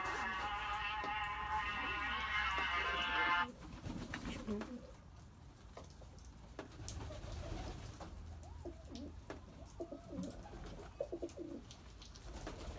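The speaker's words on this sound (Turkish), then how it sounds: "Dedemin kuşları bir de vardı." Pigeons coo low and soft in a snow-flooded coop, under rustling, clatter and scattered handling noise, after a loud high tonal whine fades out early on.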